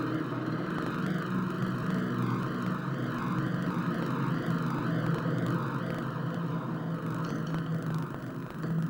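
Helicopters carrying flags fly over a military parade, a steady, loud, unbroken drone of engines and rotors that fills the whole stretch with no voices.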